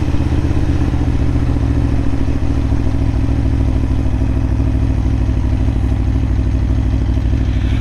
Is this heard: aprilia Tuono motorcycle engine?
yes